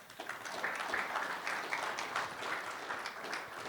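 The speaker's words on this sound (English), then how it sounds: "that is certainly worthy of an applause" An interview audience gives a steady round of moderate clapping that runs for several seconds and rises and falls slightly.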